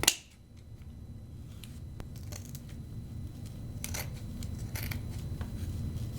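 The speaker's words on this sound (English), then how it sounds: "I put a finger in the middle and I cut them at the top and the bottom" Crisp snips of scissors cutting paper pieces for an Easter craft, several irregular close clicks spaced out over a quiet room with faint background hum.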